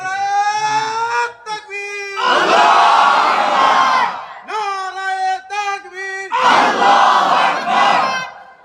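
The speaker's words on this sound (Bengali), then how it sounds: "একজন জোরে তাকবীর দেন।" A large crowd at a religious gathering loudly shouting takbir in unison, with a single caller's drawn-out voice alternating with two thunderous collective responses, close and powerful.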